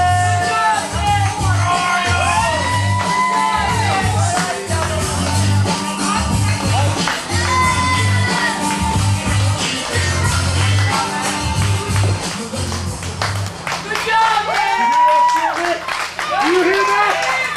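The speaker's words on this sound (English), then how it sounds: "Keep cheering for those losers." A large wrestling crowd claps and cheers loudly throughout, with someone talking over the noise and scattered shouts rising near the end.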